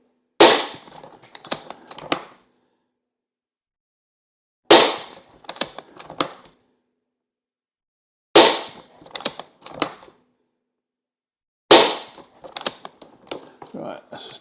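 An Umarex Iconix .22 PCP air pistol fires lead pellets in four sharp, loud cracks spaced a few seconds apart, each followed by a quick rattle of small clicks from the pistol being handled.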